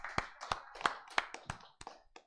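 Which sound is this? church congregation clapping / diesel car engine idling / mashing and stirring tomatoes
church congregation clapping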